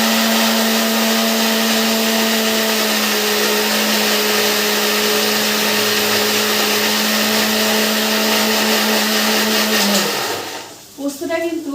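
A mixer grinder whirs steadily and loudly, blending poppy seeds with green chili and a little water, its motor drone holding for about ten seconds before winding down and stopping, with a voice briefly heard afterward.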